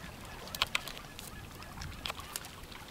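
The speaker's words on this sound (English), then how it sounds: "Kuveril, which is a penguin paradise" Penguins calling at a colony on Kuveril in Antarctica, a few short honking squawks cutting through steady wind and outdoor noise, fairly faint and spread out, with no voices.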